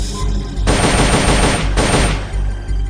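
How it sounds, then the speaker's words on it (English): Loud, dense gunfire erupts in the video game Metal Gear Solid: Peace Walker during an enemy attack, sustained rapid bursts with a brief pause between them, heard with no talking. "Enemy attack. We're being shot at."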